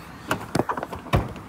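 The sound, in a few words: locking the door of a Hobby Vantana K60 motorhome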